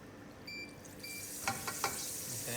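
Apple cinnamon samosas fry fully submerged in hot oil, giving a steady close sizzling hiss with a few sharp pops near the end and no talking.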